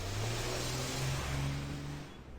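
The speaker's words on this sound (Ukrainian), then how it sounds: "Машина поїхала." A car engine in the horror video game Evil Nun hums and revs steadily at moderate volume, then fades as the vehicle drives off into the distance.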